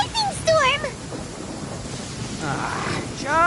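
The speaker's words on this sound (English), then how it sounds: "Lightning storm!" Thunder from a lightning storm in Genshin Impact, a low broadband rumble rolling through the middle of the clip, with voices speaking before and after it.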